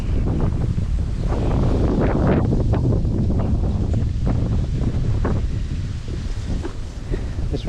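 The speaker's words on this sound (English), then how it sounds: "This wind really does need to start thinking of buggering off now, to be honest." Strong gusty wind buffeting a microphone on a boat on the river near a marina at Horning, a constant loud rumbling roar with rustling, no talking.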